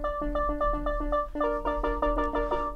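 Synth organ patch recreating the high part of a song on DRC plays a short rhythmic riff of clipped, repeated chord stabs over a low bass tone, moderately quiet and alone.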